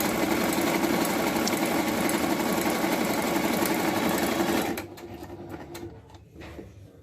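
A Jaguar KM571PP sewing machine stitching a decorative design runs with a loud, steady mechanical whir for about five seconds, then stops, leaving quieter handling noise; no one speaks.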